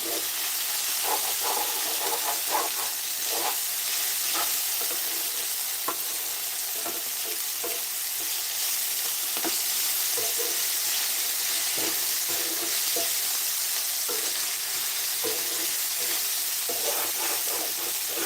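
Cluster beans curry fries in oil in a nonstick pan, a steady close sizzle with intermittent scraping stirs and no talking.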